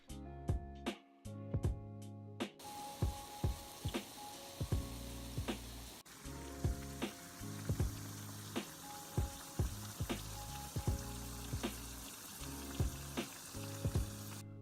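Steady crackling sizzle of funnel cake batter frying in hot oil, continuous and close, with a few soft clinks of a utensil; no talking.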